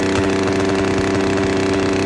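A motorcycle engine runs steadily at a low idle-like rumble, loud and close, with small throttle variations and no talking.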